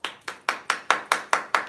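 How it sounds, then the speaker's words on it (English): Eight sharp, evenly spaced claps ring out in a steady rhythm, close and fairly loud, from an audience cheering sales results at a team night event. "we gotta keep the applause going"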